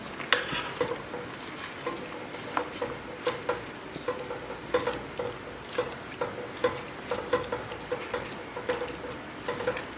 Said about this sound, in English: I'm going to stir the whole mixture together.